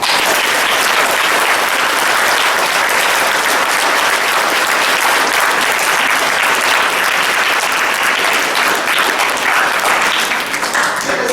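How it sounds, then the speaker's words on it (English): Sustained, dense applause from an audience welcoming a guest at a school event, loud and steady throughout with no speech over it. "Let us welcome him by giving a big clap."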